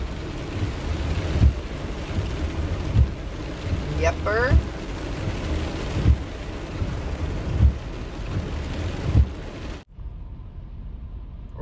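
Heavy rain pours steadily during a thunderstorm at a Love's truck stop in Tucumcari on a road trip. Low rumbles of thunder roll under the constant wash of water, a voice briefly speaks, and the sound cuts off abruptly near the end.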